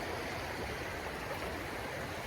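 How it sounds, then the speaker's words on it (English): A running stream on the Ice Age Trail gives a steady, even rushing and burbling wash of water. It is heard close by and alone, with no talk. "Whenever I find a good source like this, it's running, easy to get to here."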